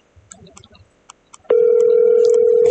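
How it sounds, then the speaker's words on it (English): An outgoing phone call starting, a few soft clicks and faint tones and then a loud, steady ringback tone that holds without a break, with no speech. "Now we are going to see if AJ picks up the phone."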